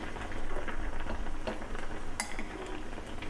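Kimchi jjigae with pork bulgogi and tofu simmers in a pot after five minutes of boiling, giving a soft, close bubbling and crackle with a brief sharp clink partway through.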